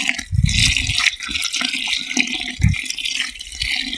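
Water pours steadily into a bucket being filled to wash azolla for poultry feed, a close, continuous splashing rush with a few heavier gushes and no talking.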